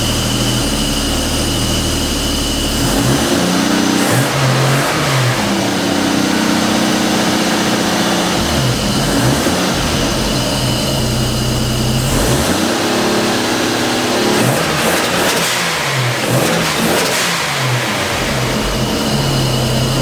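A Toyota 2JZ-GE engine runs loud and close, holding a smooth idle and then revving up and settling back several times, with no talking over it.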